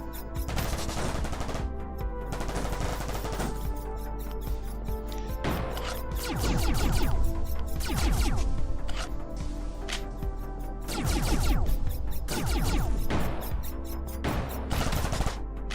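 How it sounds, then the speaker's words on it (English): Automated turrets in the video game Vortica fire continuous rapid bursts, dense repeating gunfire lasting throughout with louder swells around the middle and later, no voices over it. "I'm gonna let the turrets do most of the flank clearing for me."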